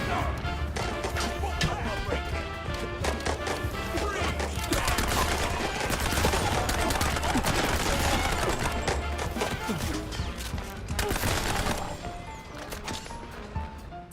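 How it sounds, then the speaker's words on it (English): Heavy cannonball gun fire in a chaotic action video game, booming shots and crashing impacts coming thick and fast over dense game music and effects throughout, with little pause. "Shoots cannonballs."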